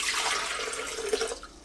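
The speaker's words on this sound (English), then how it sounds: "Add water." Water is poured into the jug of a Breville Fresh & Furious blender for a green smoothie, a soft, steady splashing stream that fades out near the end.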